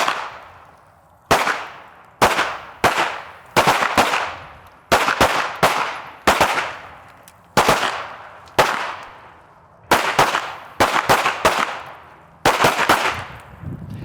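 Handgun shots ring out at an outdoor shooting range: about sixteen loud, sharp reports in irregular bursts and pairs, each cracking close by and trailing off in a brief echoing decay.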